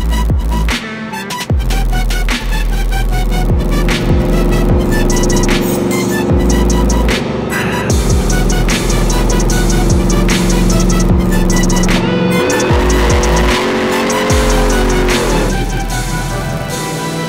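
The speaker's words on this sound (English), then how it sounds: "You got a fast truck back again." A fast pickup truck, a sleeper Ford F-450, drives and accelerates nearby with a loud, steady engine roar that rises and shifts in pitch through repeated gear changes.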